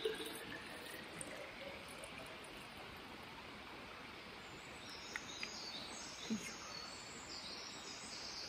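A steady, faint rush of water poured continuously into a water bottle on a mountain hike, with no other sounds standing out.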